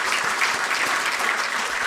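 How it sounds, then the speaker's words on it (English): Dense, loud crowd applause for the President at the swearing-in ceremony of Ghana's Chief Justice, a sustained wash of many hands clapping with no break or voices. "I believe we can do another big round of applause for His Excellency the President"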